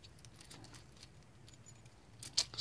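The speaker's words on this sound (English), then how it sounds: "This is the original keys." Original keys for a Kwikset SmartKey lock jangle faintly and briefly in a quiet room, with a slightly sharper rattle near the end.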